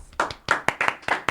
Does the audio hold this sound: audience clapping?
yes